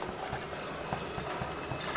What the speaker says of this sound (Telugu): దీంట్లోనే ఒక గ్లాస్ వాటర్ వేస్తాను.